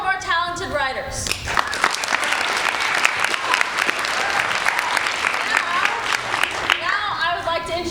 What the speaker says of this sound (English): Let's also give a round of applause for all of our talented writers.